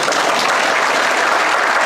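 Applause for a president at the high-level session of an oceans conference, a dense, steady burst of many hands clapping from a large audience, loud and continuous.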